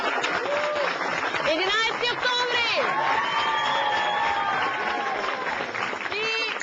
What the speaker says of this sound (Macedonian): дајте си пон аплауз